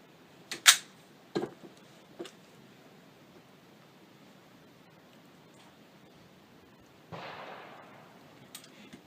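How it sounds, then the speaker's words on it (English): The action of a project gun is cocked, giving a few sharp metallic clicks and clacks close by in a quiet room, followed by a brief rougher scraping sound. "Works better if you cock the gun."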